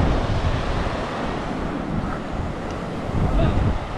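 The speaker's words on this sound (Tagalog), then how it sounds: "Tapos ang laki ng alon, no?" Large ocean waves wash and churn under strong wind gusting across the microphone, a loud, continuous roar with surging swells and a few faint voices underneath.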